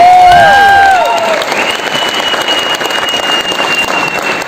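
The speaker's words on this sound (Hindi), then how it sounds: "एक बार जोरदार तालियां हो जाए" Audience at a Modicare training program applauding loudly, a dense, continuous wash of clapping from a large crowd, close and sustained after a brief swelling tone at the start.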